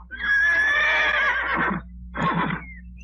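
Cartoon horses whinny loudly and close by, first in one long shrill neigh and then in a shorter second whinny after a brief pause, with no talking.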